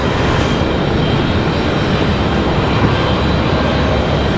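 A steady, loud jet airplane roar at Raleigh Durham International Airport, a continuous broadband rumble filling the scene throughout without any talking.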